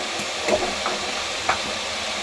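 Masala for potato saagu with kasuri methi frying in a pan, a gentle continuous sizzle broken by a few light stirring scrapes.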